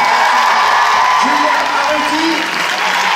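A Paris cinema crowd at a film premiere at Le Grand Rex applauds and cheers in a dense, loud, steady roar while a presenter announces names over it through a microphone.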